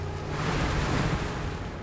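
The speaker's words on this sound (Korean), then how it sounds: "어째 파도가 심상치 않다." Rough open-sea waves churn around an eel-trap fishing boat, a steady, full rushing wash of surf and wind noise with no pauses.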